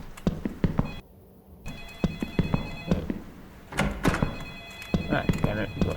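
A telephone rings inside a video game, a repeated electronic bell pattern pulsing under thumps and game noise while a player talks over it.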